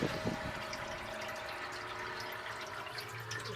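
Garden hose water running steadily into the tank of a Cleveland Steamcraft steamer outdoors, a continuous broadband rush and trickle with faint splashes near the start, no talking.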